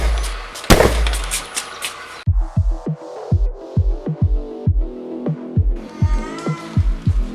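Gunfire sound effects from a Hindi detective audio drama: a loud blast, then a rapid run of sharp, evenly spaced shots crackling one after another at close range, with no speech over them.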